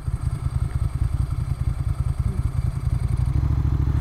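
A 1994 Ducati 900 Supersport rolls through town at walking pace, its engine a steady, close, low throbbing rumble with light mechanical clatter, the beat thickening slightly near the end.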